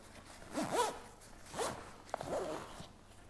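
A zip being fastened around a Berghaus Jalan 55+10 women's backpack, three distinct rasping zipper pulls in a row, close and clear, with no talk.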